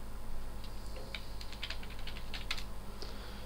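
Computer keyboard typing during captcha entry work, with quick irregular clicks close by over a steady background hum.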